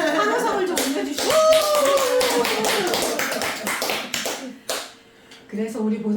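An audience clapping and cheering at a Buddhist temple Dharma talk, a dense burst of hand claps with voices rising under it, then tapering off into scattered claps and murmuring talk.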